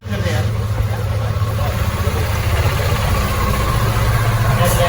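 A Honda Activa scooter idles nearby on a trip to Udaipur, with a steady low engine rumble that holds even and continuous throughout, while people talk nearby.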